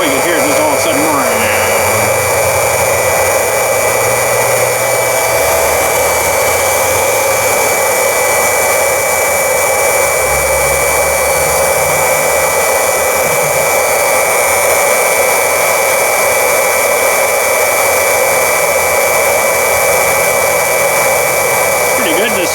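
A pump filling a tractor's front tires with windshield washer fluid whines steadily and continuously throughout with a constant high tone, and people talk over it now and then.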